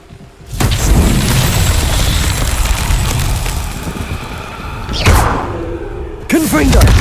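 A Confringo spell blast in Hogwarts Legacy, a loud booming roar and rumble that swells and holds for several seconds, with a second whooshing burst near the end and voiced game sounds mixed in.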